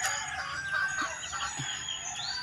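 Chickens clucking around a rural house with vegetable plants nearby, their calls steady and moderately close, with faint higher chirps and no talking.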